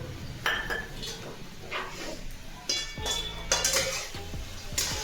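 Fried lentil dumplings (bori) are stirred into a spinach curry with a spoon, making several close metallic clinks and scrapes against the pot over a soft sizzle, with no voices.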